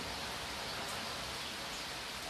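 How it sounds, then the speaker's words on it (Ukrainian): Steady spring downpour, a dense, even hiss of heavy rain falling on surfaces nearby, constant and unbroken for the whole stretch with no voices. "Уже другий день йде дощ, іде злива"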